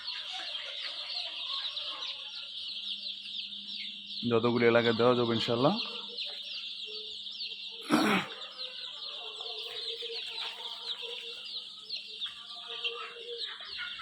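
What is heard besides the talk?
Egyptian Fayoumi and local chicken chicks, 12-13 days old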